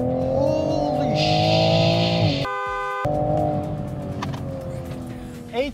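A Toyota Supra MK5 with aftermarket upgrades accelerates hard, engine note climbing through gears with a sharp shift break midway, loud and close inside or near the car, easing off toward the end.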